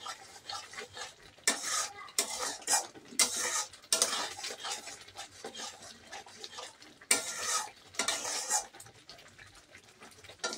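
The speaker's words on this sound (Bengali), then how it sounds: "সেই জন্য আমি কিন্তু মশলাটাকে আবার সুন্দর করে কষিয়ে নিচ্ছি।" Spice paste (masala) with salt and turmeric being stirred and fried in a pan, giving bursts of scraping and sizzling in uneven rhythm, close and moderately loud, with no talking.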